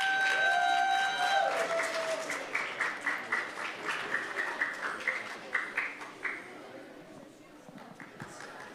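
Audience applause at a school citizenship challenge event: steady clapping from a crowd, moderately loud, with a few voices mixed in, and it fades near the end.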